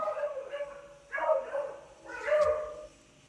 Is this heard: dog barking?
yes